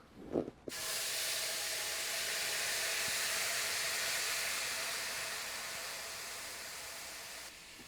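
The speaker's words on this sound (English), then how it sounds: "I'm just gonna pour the boiling water into the pan." A sudden loud hiss of steam erupting as boiling water is poured into a hot pan in an oven after a brief clatter, holding steady for several seconds before slowly easing off.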